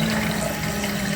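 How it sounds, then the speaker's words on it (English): Toilet being flushed with water rushing steadily through it, accompanied by a persistent low humming vibration; continuous and close, with no speech. "I'm going to press this down to let the water flow and see if the noise still happens."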